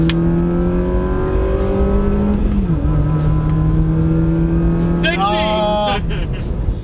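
A mid-engine Mitsubishi Eclipse launching hard, loud engine revving that drops and rises again through a gear change, then climbing higher-pitched whine, with excited voices talking over it.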